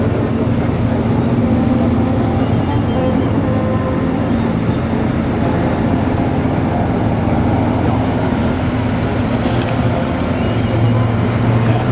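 A K9 self-propelled howitzer rolls past in a military parade in Helsinki, its steady engine and track rumble loud and continuous over broadband crowd and street noise for the whole stretch.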